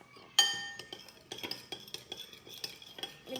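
A utensil stirs food with salt in a metal pot, producing quick, close clinks and scrapes in an uneven rhythm, fairly quiet with no talking.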